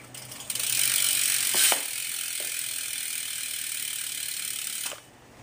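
Bicycle rear hub freewheel ratchet buzzing loudly and steadily as the wheel spins, a fast continuous clicking close by that runs for several seconds before cutting off.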